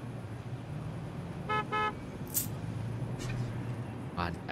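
Short car horn toots in the video game Parking Tycoon Business Simulator, two quick honks midway followed by a few more brief beeps, heard over a low background hum with some game noise.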